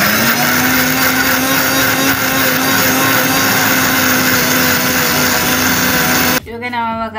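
A kitchen mixer grinder runs at full speed, steady and loud, blending boiled mint leaves and tomatoes, its high whine holding constant for several seconds before cutting off abruptly near the end.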